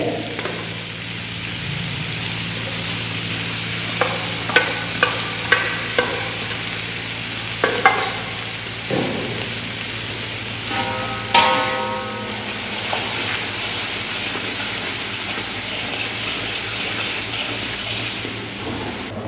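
Prepared masala going into a pan of chicken do pyaza, a steady frying sizzle throughout with scattered scraping stirs and clinks, a louder hissing burst near the middle, no talking.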